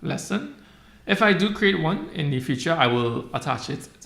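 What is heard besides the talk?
No everyday noises stand out.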